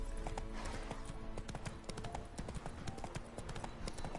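Roach the horse galloping in The Witcher 3, a continuous rapid clip-clop of hooves heard alone at a steady pace with no voices.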